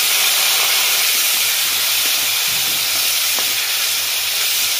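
Onion paste hits hot oil already seasoned with turmeric for a pointed gourd korma, giving a loud, steady, even hiss that holds unbroken for the whole stretch with no voices.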